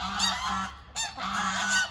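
Several geese honk loudly up close in overlapping bursts, a short pause, then another round of harsh honking.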